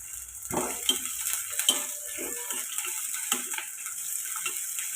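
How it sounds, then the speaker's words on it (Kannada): Cumin, black pepper, fenugreek and dried chillies frying in oil for a Karnataka bassaru, a steady close sizzle with occasional spoon scrapes and stirring clinks against the pan, no voices. "ಇದು ಎಲ್ಲನೂ ಎಣ್ಣೆಲಿ ಫ್ರೈ ಮಾಡ್ಕೋಬೇಕು"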